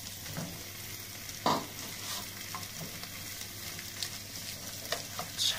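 Minced kefta meat goes into a pan of cooking vegetables, giving a steady close sizzle broken by several sharp scraping stirs and clatters of the spoon against the pan.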